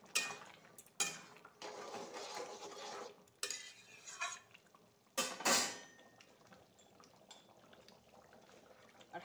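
Ground cardamom, clove and cinnamon being stirred into a jackfruit and potato curry: bursts of spoon scraping and clinking against the pot, separated by quiet pauses, close but soft.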